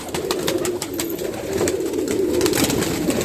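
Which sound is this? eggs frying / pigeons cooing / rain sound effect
pigeons cooing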